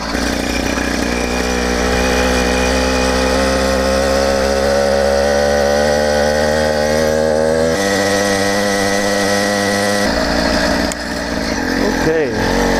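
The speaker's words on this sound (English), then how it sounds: "Let's get the engine warmed up." A 100cc iron-sleeve motorized bicycle engine idles and revs as it warms up on a cold day, a loud, buzzy two-stroke drone whose pitch rises and falls with the throttle.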